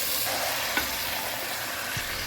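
Horse meat for kuyrdak sizzles steadily in a hot pan, a continuous close hiss with a few soft stirring clinks, no voices.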